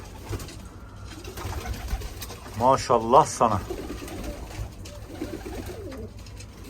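A caught pigeon coos softly in a short burst of throaty calls, close by, amid quiet background noise and a few spoken words.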